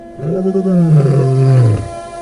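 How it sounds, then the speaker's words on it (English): A lion roars once, a loud, close, drawn-out bellow lasting well over a second that swells and then falls away, heard on its own with no speech. "A roar which once echoed through the bush and plains from Casablanca to Cape Town."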